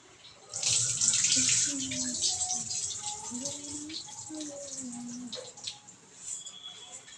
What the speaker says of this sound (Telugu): వాటర్ అయితే తగినంతనే తీసుకోవాలి ఫ్రెండ్స్, లేకపోతే మనం ఇప్పుడు రైస్ కుక్కర్ పెడతాం కాబట్టి మనకి ఎంత కావాలో అంత వాటర్ పెట్టుకోవాలి.